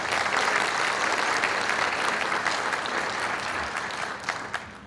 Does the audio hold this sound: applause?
yes